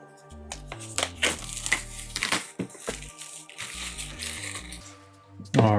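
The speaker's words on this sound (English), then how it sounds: "So I'm just gonna cut it open." A phone box for a HOTWAV Hyper 7 is cut open, producing a quick series of close scraping, crinkling and tapping sounds of blade and packaging, ending in a louder handling thump.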